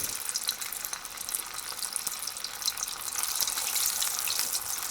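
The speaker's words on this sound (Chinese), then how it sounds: "油温已经到180了，我们加入鸡翅。" Chicken wings for Japanese karaage deep-fry in 180-degree oil, a dense, steady crackling hiss with scattered pops that swells slightly louder toward the end.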